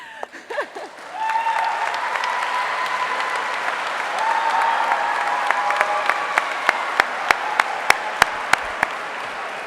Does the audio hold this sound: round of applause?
yes